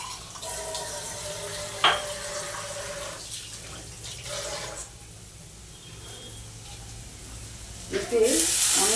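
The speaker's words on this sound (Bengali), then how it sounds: "জল দিয়ে নিচ্ছি" Tap water runs steadily into a cooking pan to rinse off leftover spices, a continuous splashing hiss with a brief voice over it.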